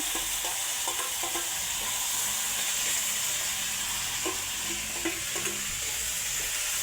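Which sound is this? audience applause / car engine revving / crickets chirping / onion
onion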